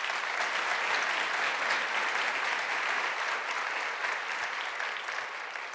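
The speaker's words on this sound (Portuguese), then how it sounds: "Por favor, aplaudam elas." Audience applauding two students, a sustained, dense roar of many hands clapping, loud and even throughout and tapering slightly at the end, with no speech.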